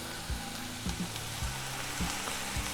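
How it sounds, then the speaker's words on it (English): Beer poured into a hot frying pan for a ground beef mac and cheese sizzles steadily up close, with a series of soft, regular low knocks from the pan beneath the hiss and no voices. "So now I'm going to put the beer into the pan and just let that cook out"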